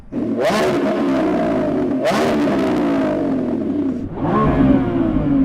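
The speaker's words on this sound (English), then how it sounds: "So I'm going to rev up this Lambo." A Lamborghini Revuelto engine revs three times in quick succession, each a loud, close roar that climbs sharply and then falls away, with the third blip starting near the end.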